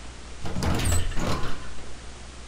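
A door creaks and slides open inside the horror video game Amnesia, a broad scraping rush that swells for about a second and a half, close and fairly loud, then fades into low room hum.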